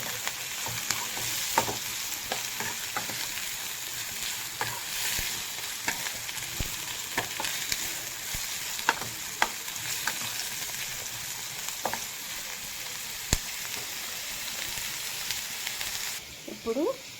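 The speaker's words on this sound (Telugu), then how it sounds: "వేసుకున్నాక ఇవి మంచిగా వేగేంత వరకు ఫ్రై చేసుకోవాలి." Ingredients for egg bhurji fry in a pan with a constant loud sizzle, broken by occasional clicks and scrapes of stirring and a brief clatter near the end.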